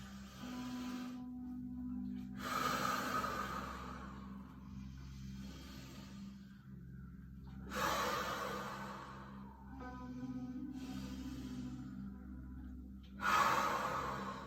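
Deep, slow yoga breaths during a held pose, heard as three long, broad rushes of air a few seconds apart with softer breathing between, close and fairly quiet over a steady low hum, with no talking.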